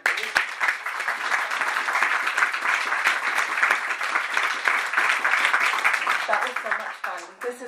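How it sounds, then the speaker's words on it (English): An audience gives a long, dense round of applause after a lecture on the colours of birds. Close, crisp clapping keeps up steadily for about seven seconds, then thins and fades at the end. "I would love to give us a second round of applause for this amazing talk."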